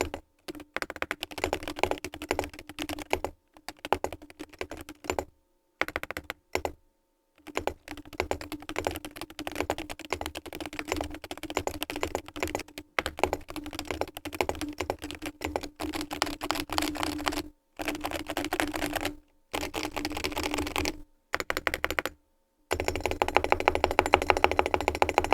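A Wooting 80HE keyboard fitted with metallic keycaps is typed on continuously and close, in fast clicky runs broken by short pauses, with no voices.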